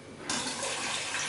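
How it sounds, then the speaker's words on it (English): Milk poured from a 3-liter thermos flask into a container during yogurt making, a steady close liquid pour that starts softer and swells to a continuous splashing rush. "I'm going to pour out a little bit of milk here"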